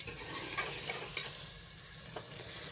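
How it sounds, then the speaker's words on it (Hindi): Meat for aloo gosht frying in a spice masala, a steady dense sizzle with scraping stir strokes, close and continuous with no talk. "इसी मसाले में ही हम इसे अच्छी तरह भून लेंगे।"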